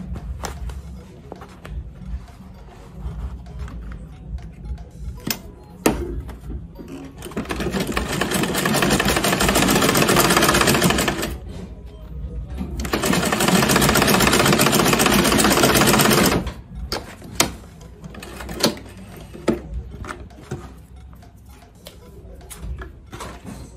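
A sewing machine stitches an Ankara fabric panel for a baseball cap in two long, loud, steady runs of rapid mechanical whirring. Quieter handling clicks and knocks fill the gaps before, between and after.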